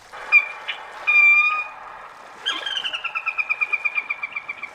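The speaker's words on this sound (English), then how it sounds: "Loudspeakers played recorded rail calls on a loop during their migration." Recorded rail calls played on a loop from loudspeakers in a restored wetland in Michigan: sharp whistled notes, then a long descending series of rhythmic, evenly spaced squawking calls, clear and moderately loud with no talk.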